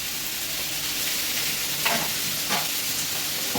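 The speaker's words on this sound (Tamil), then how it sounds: "எல்லாம் போட்டு நல்லா வதக்கி," Cumin, black pepper and fennel seeds sautéing in a pan, a continuous close hiss of frying with two brief stirring scrapes partway through.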